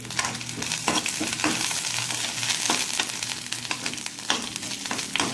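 Mustard seeds, dried red chillies and grated coconut sizzle and crackle in hot oil for a sambar tempering, a steady frying hiss with scattered pops and occasional stirring scrapes, close up with no talking.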